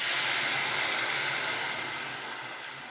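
Tamarind and tomato water poured into a pot for pepper rasam, a steady close hissing, splashing pour that fades gently over a few seconds, with no talk.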